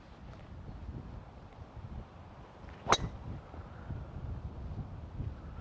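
Wind gusting across an open golf course with a left-to-right breeze, a steady low rumble and buffeting on the microphone throughout, with one sharp brief knock near the middle.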